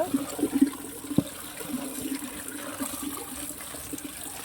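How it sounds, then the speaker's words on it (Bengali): Raw green mangoes are rinsed in water, giving a steady low wash of running water with a few brief splashes and sloshes near the start, close and moderately loud, no talking. "আমটা এবার ভালো করে ধুয়ে নেব,"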